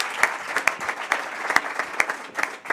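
A small audience at a university sports programme presentation gives sparse, scattered claps, individual hands audible with distinct sharp slaps at an irregular rhythm.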